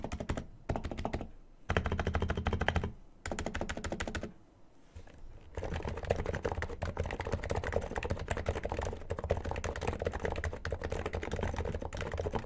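Steady, rapid typing on a Hansung GK888B contactless Bluetooth keyboard with 50 g key weight: dense, even keystrokes clatter close up for the whole stretch with only brief pauses and no talk.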